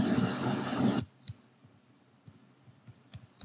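Keys tapped on a computer keyboard to enter a search keyword: a short burst of broadband noise opens, then a few sparse, soft, close clicks scattered over the rest.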